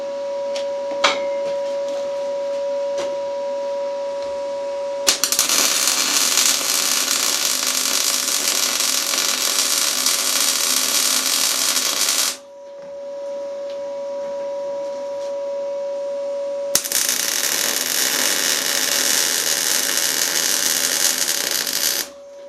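MIG welding on steel plate for a tractor leveling box: two long, loud bursts of crackling, sizzling arc noise, each roughly seven seconds, separated by a quieter pause over a steady electrical hum from the welder.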